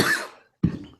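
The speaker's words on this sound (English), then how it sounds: "You coughed into your hand?" A man gives a sharp, close cough into his hand followed by a second short cough and the start of a third, loud and dry with no talk.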